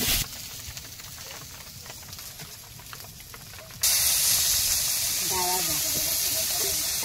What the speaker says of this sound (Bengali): সামান্য একটু লবণ দিয়ে আমি আলুটা ভেজে নিচ্ছি।